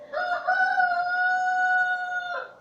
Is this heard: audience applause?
no